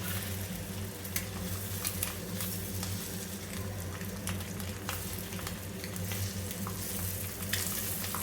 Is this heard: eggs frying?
yes